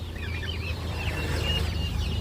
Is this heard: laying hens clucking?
yes